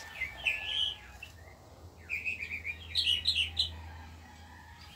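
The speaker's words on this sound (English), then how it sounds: "That's a mockingbird." A mockingbird sings outdoors in a run of short, bright chirps and varied phrases, with a pause in the middle before another burst, set over a low steady hum.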